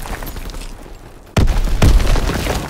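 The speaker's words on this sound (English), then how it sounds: "Enemy bomb incoming!" A loud enemy bomb explosion in a video game bursts in suddenly after a quieter stretch, followed by a second rumbling blast and sustained roar.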